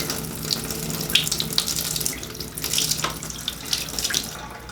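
Used water from home colour film developing is poured out and splashes steadily into a sink, a continuous running-water gurgle with small bursts of spatter, close by and without talk.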